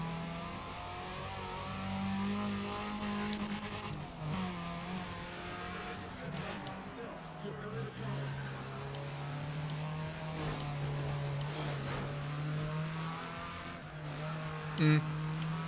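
The engine of a Volkswagen Golf in Need for Speed ProStreet holds a steady drone under race ambience, its pitch rising and shifting through gear changes, with faint tire noise and a brief knock near the end.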